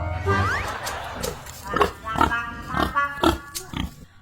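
Pig grunting in a rural Filipino setting, a few short rough grunts and squeals spread through a few seconds, heard close alongside people talking nearby.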